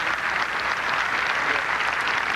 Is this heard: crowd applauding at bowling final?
yes